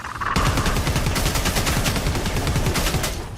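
Rapid bursts of automatic gunfire rattle continuously in the Predator: Hunting Grounds video game, loud and dense, with shots layered over one another and no voices.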